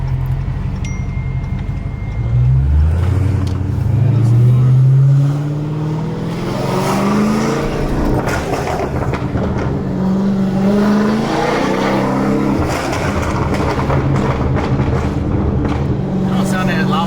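An SRT Durango's engine and exhaust drone and rise through revs while driving, climbing in pitch and pulling hard, with people talking over the sound inside the cabin.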